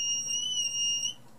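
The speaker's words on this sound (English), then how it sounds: "there you could hear it buzz because of the light falling on it" A small electronic buzzer in a bright-light alarm circuit, built with a 2N3906 PNP transistor and a light-dependent resistor, sounds a steady high-pitched tone that cuts off abruptly after about a second.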